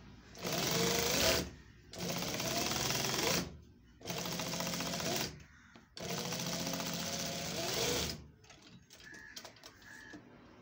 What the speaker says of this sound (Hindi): कॉलर के ऊपर कितनी यूनिक सिलाई लग रही है